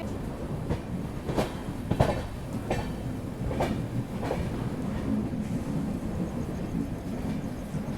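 An Amrit Bharat Express train, running Anand Vihar Terminal to Darbhanga, approaches on the railway with a steady rumble. Its wheels clatter in irregular clicks over the rail joints, loud and continuous with no voices.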